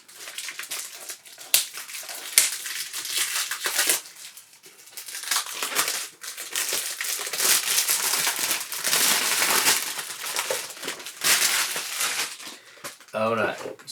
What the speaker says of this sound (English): Sorry about the noise. When you do unboxing you can't do anything about it.